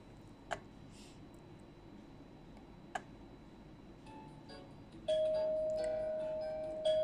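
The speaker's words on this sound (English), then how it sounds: "I had the strangest dream and was woken up by the doorbell." Doorbell ringing in the horror dating game Dead Dating, a few sharp separate chimes over a steady low hum, followed by a sustained electronic tone near the end.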